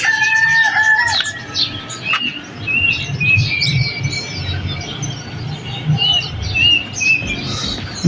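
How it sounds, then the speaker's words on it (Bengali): Many birds, including pigeons, chirp and call together nearby in the morning, overlapping tweets and clucking sounds over a steady outdoor background. "সকাল সকাল এসে দেখি পাখিদের খেলা, অনেকগুলো পাখি আসছে সাথে, কবুতর আসছে সাথে"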